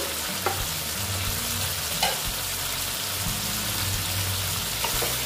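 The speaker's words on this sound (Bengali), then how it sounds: "দেখো এখন মোটামুটি হয়ে গেছে কষানো" A spiced base for a pabda fish curry with potato and lentil vadi sizzles steadily in a pan, a constant close frying hiss with a low burner hum and occasional light stirring clicks.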